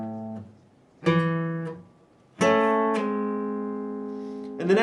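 Slow guitar playing of the intro: three struck chords or note groups, each ringing and decaying, the last held longest before a fresh attack at the end, with no voices.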